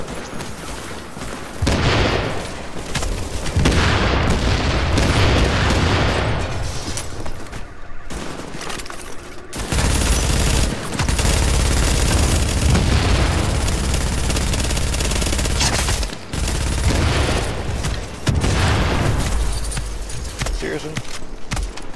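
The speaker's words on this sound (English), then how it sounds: "shooting going on here" Video game gunfire in a shooting exchange, dense loud bursts of rapid shots and booms that keep going almost without pause, with a voice talking over them.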